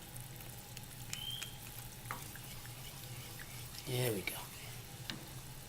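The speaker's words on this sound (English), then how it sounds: "I'm going to raise the heat a little bit to bring it to a medium simmer" Tomato sauce simmering in a pan with whiskey and smoked salmon, a steady low sizzle and bubble throughout, with a brief louder stir or splash near the end and a short spoken remark.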